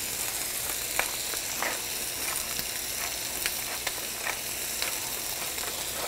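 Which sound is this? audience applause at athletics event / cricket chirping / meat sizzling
meat sizzling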